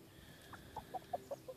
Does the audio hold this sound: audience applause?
no